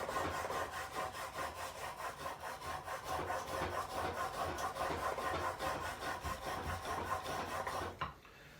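Steady back-and-forth rasping of a smoothing plane iron being sharpened, rhythmic strokes repeating about three times a second at close range, stopping abruptly near the end with no talk.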